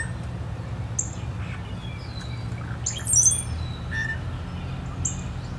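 Birds call and squawk outdoors on an evening in early April, sharp high chirps and squawks scattered over a steady low background rumble, several moderately close, with a brief burst of overlapping calls midway.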